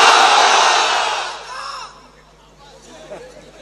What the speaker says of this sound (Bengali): অবিবাহিতরা এখন চুপ, শুধু বিবাহিতরা তাকবীর দেন।